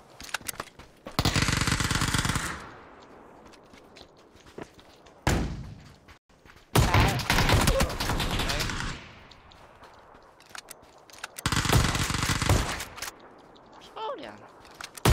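Automatic gunfire in a first-person shooter video game, arriving as three loud, sustained bursts separated by quieter gaps with scattered single shots and clatter.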